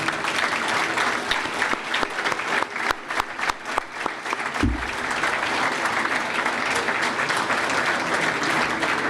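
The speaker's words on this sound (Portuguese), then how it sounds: "E eu queria vos pedir uma enorme salva de palmas para ele" Sustained, loud applause from a dinner crowd honouring a departing council president at a PSD mayors' dinner in Esposende, dense clapping filling the whole stretch with a brief low thump midway.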